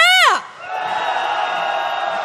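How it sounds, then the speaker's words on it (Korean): A protest crowd at a candlelight march calling for a presidential impeachment lets out a loud, sustained roar of cheering that opens with a sharp, falling whoop and then holds steady as a broad wash of voices. "함성 한번 질러보겠습니다"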